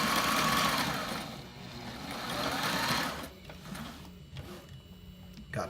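A sewing machine stitches fabric for a robot battery strap, running in a loud steady whir for about three seconds, then slowing into shorter, intermittent bursts.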